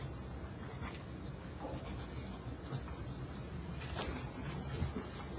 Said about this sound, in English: So I'm going to go ahead and write those down here